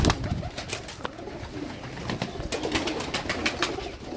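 Pigeons coo and call repeatedly in a busy outdoor setting, with some wing flutters and a scuffle of nearby movement.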